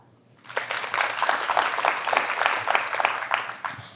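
A studio audience claps to vote in a fake-audio guessing game, the applause swelling quickly from near silence into a dense, sustained wash of many hands before tapering off.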